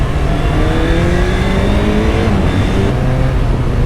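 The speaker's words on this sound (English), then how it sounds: "even just from being able to open the throttle up a couple of times like that" Engine of an original 1985 Suzuki GSX-R750 motorcycle revving loudly and steadily as the throttle is opened on an open road, a continuous close-up roar with rising and falling pitch and no voices.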